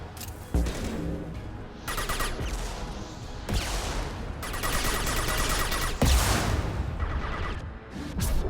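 Gunfire in Mass Effect 2 erupts in several loud, sustained bursts separated by brief lulls, close and aggressive amid battle effects.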